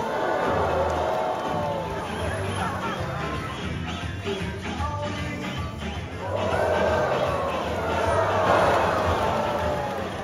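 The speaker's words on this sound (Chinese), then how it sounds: "现场观众常常有阵阵欢呼" An audience at a dolphin show at an Okinawa aquarium, set to traditional Okinawan music, breaks into waves of cheering and excited crowd noise, rising strongly toward the end over a busy background.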